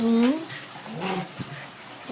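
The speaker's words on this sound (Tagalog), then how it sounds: "Tapos, ito naman yung mga aso." Dogs at home give high whimpering, whining yips, a drawn-out whine at the start followed by softer whimpers, close by with people talking over them.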